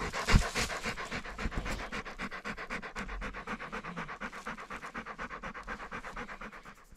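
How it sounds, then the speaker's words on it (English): A hunting dog pants rapidly and steadily after a slingshot squirrel hunt in Alaska, its quick rhythmic breaths heard up close and alone, with a brief scratch near the start. "There's my hunting dog."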